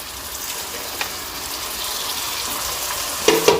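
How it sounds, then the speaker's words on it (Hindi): Tomato puree gravy with yogurt and browned onion frying in a pan for egg biryani, a steady moderate sizzle ending in a couple of sharp utensil clinks. "इसको भून लेंगे ग्रेवी को अच्छे तरीके से"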